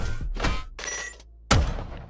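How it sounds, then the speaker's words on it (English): Unused turret sound effect from the video game Scrap Mechanic: a few sharp, loud mechanical bursts and thuds in quick succession with brief gaps, ending in one heavy punchy blast that rings out. "These include a turret sound effect"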